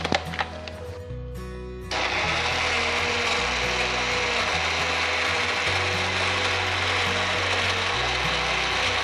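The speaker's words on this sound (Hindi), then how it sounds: "हमें मिक्सर में डाल के ग्राइंड कर लेते हैं।" Electric mixer grinder blending a banana milkshake with ice cubes and milk; a brief rattle gives way to a loud, steady whirring grind that runs on without pause.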